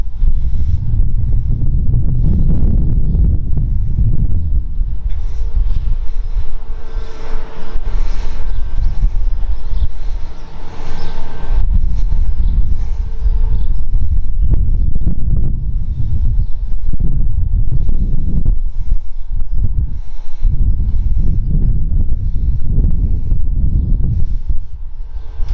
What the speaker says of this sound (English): There will be some wind.